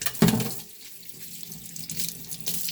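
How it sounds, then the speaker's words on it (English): Water running from a kitchen tap into a sink while food drains in a strainer, a loud initial splash easing into a steady, softer rush that swells again near the end. "So I'm draining it in the strainer."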